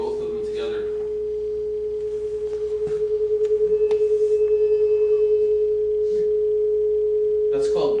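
Two steady pure sine tones a few hertz apart, one at 424 Hz, sound together, their combined pitch swelling and fading in a slow, regular throb of beating; a few faint background noises sit underneath.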